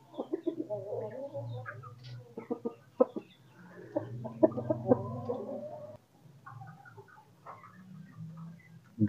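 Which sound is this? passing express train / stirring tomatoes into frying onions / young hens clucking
young hens clucking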